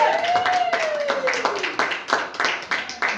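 Church congregation clapping in praise during a French sermon: rapid, fairly loud rhythmic hand claps continuing throughout, with a voice or sung tone rising over the start.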